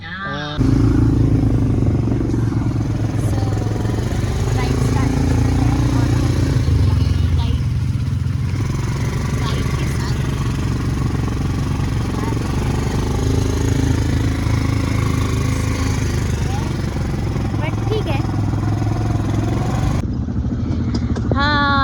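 ATV engines run on a Bali ride near Seminyak, a steady loud motor drone with rattling clatter throughout, close by, while people talk over it.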